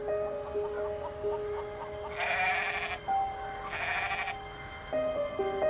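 Goat bleating in a farmyard, two drawn-out calls close by with a shorter one at the end, under a steady hum of background tones.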